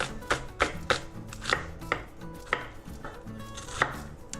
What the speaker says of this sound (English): Boom. Sliced red onion.